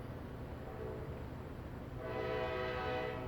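A train horn sounds as one sustained, fairly faint blast starting partway through, over a steady rumble of rail traffic.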